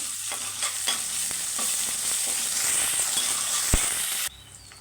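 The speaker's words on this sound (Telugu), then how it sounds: "కొంచెం అల్లం వెల్లుల్లి పేస్ట్ అయితే వేసుకుందామండి అల్లం వెల్లుల్లి పేస్ట్ కూడా పచ్చివాసన అయితే పోవాలి" Ginger garlic paste frying with cabbage in catering-style cabbage curry, a loud continuous sizzle with light stirring scrapes and one sharp utensil knock, dropping abruptly quieter at the end.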